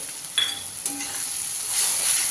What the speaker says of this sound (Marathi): आणि आपण त्याला छान परतून घेऊयात